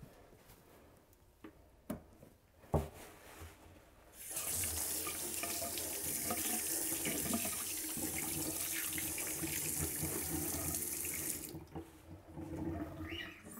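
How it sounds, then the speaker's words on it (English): Tap water runs steadily into a sink as hands are washed, a loud, even rushing splash that holds for several seconds after a few faint knocks and taps, then cuts off to quieter dripping and handling. "you're gonna wash your hands"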